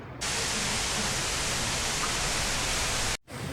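Waterfall in Wells Gray Provincial Park, British Columbia, a dense, steady roar of falling water close at hand, broadband and unbroken until a brief cut near the end.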